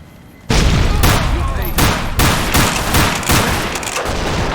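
Sustained burst of heavy gunfire in the video game Fallout New Vegas, loud and close, with repeated shots and booming impacts carrying on without a break.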